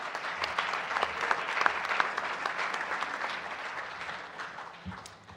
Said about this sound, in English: Let's welcome her with a big round of applause as well.